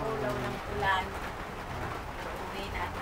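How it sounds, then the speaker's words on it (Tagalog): Heavy rain pours steadily outside a house, a dense constant wash that fills the whole moment, with voices talking faintly beneath it. "Grabe yung ulan, no?"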